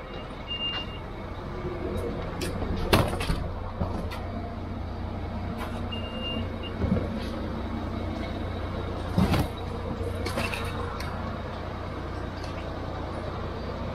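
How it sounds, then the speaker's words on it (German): A city bus pulls up at a stop in Dresden, its low engine rumble steady while reversing beeps chirp intermittently and a few sharp air-brake hisses burst out, moderately loud and close. "Der Bus ist angekommen."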